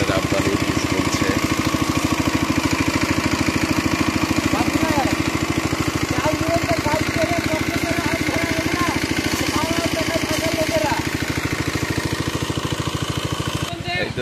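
A motor-driven sprayer runs steadily in a mango orchard, spraying water on the trees; its engine holds a loud, constant close drone for the whole stretch, with faint background voices.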